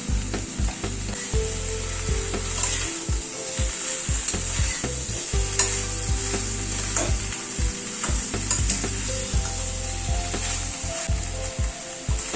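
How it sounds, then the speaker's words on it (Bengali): Bitter gourd and eggplant curry stirred in a pan after a teaspoon of sugar goes in, a soft steady sizzle broken by repeated scraping and knocking strokes of a spatula, no talk. "চিনিটা দিয়ে একটু মিনিট খানেক নাড়াচাড়া করে নিলাম।"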